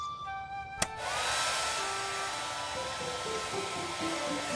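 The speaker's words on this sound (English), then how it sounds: "We're turning on the hairdryer." A hair dryer switches on after a sharp click and blows with a steady, loud whirring roar that continues without a break, in a children's cartoon.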